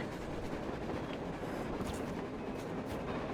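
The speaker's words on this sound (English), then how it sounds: "A damn train on a surface!" A train rolls along surface rails in the video game Metro Exodus, making a continuous rumbling clatter of wheels with faint squeals, steady and alone without speech.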